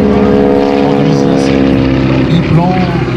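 A Boeing Stearman biplane drones overhead at an air show in Merville, its propeller engine giving a loud, steady hum throughout.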